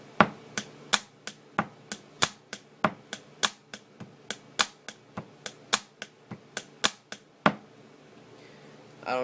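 A pen taps out a repeating drum-like pattern on a surface, about twenty sharp, crisp clicks in a steady groove before stopping near the end, close and clear with no talking.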